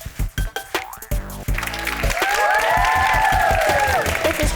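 A sports show's studio audience breaks into clapping and cheering that swells into a steady crowd roar, preceded by bouncy, boing-like effect tones and rhythmic thumps under a music bed.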